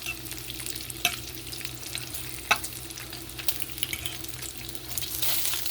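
Great Value naturally hickory-smoked bacon fries in a skillet with a soft, steady sizzle and crackle, broken by a few sharper pops and scrapes, fairly quiet and close, with no talking.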